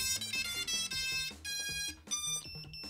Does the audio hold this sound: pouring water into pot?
no